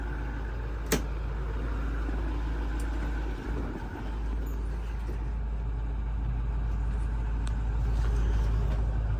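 A 2011 IC CE-200 school bus engine idles with a steady low rumble throughout, broken by a few sharp clicks.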